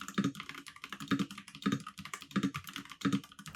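Typing on a hotswap mechanical keyboard fitted with tactile switches, a quick continuous patter of soft clacks with heavier thocks recurring about every second or so, close and moderately quiet with no talk.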